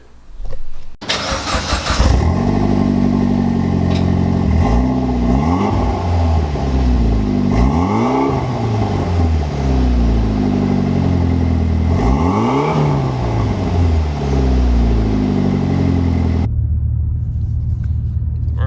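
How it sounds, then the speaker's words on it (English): A Mitsubishi Lancer Evolution X MR cold-starts loudly: a short cranking burst, then a high, steady fast idle with a few rising and falling revs, running close and continuous until it cuts off near the end. "I can do a cold start for you guys too, so you guys can hear it."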